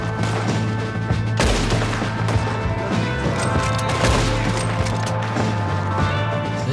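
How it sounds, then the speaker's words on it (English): An enemy fires at the player in a Red Dead Redemption 2 shootout against bounty hunters, with sharp loud gunshots and impacts cracking over a steady background rumble. "There's a guy shooting me."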